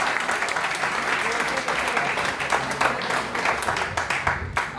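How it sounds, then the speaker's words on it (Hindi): Continuous audience applause at a college singing competition on campus, a busy crackle of many hands sustained for about five seconds, with some voices mixed faintly underneath. "इसलिए एक बार ताली बजाते हैं।"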